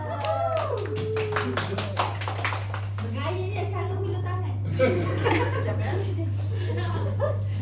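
Schoolchildren in a classroom clap their hands together in a scattered burst of sharp claps, with children's chatter, a chuckle and a teacher's voice mixed in over a steady low electrical hum.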